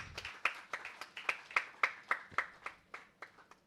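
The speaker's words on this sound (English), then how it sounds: "Let's give them a warm round of applause as they mark this special moment." An audience at an ITPI-HRC Haryana Day celebration claps in a steady, sparse rhythm of single sharp hand claps, fairly close and clear, with no crowd cheering.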